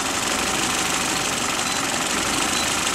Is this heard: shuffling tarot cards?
no